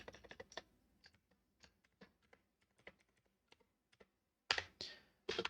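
Someone types on a computer keyboard while writing HTML text formatting. Quiet clusters of keystrokes tap irregularly across the quiet room, ending in a few louder, longer bursts of rapid typing.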